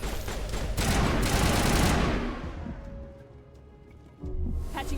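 A loud, dense burst of gunfire in Mass Effect roars for about two seconds, then thins into scattered distant shots with a faint tone, before a heavy rumble returns at the end.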